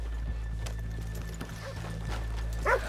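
Horse hooves clop in an irregular rhythm on a town street in Red Dead Redemption 2. A steady low hum runs underneath, and a brief animal cry comes near the end.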